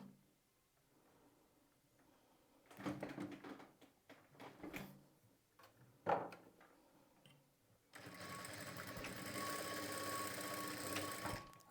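A sewing machine stitches the shoulder seam of a blouse, first in short choppy bursts with clicks and a sharp knock, then in one long, steady, humming run to the end.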